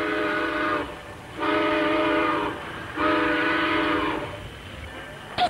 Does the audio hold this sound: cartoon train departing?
yes